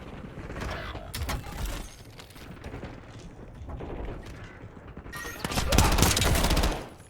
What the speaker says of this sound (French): Je recharge.